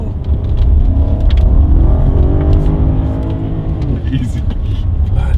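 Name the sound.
all-wheel drive BMW Alpina B7 driving on damp road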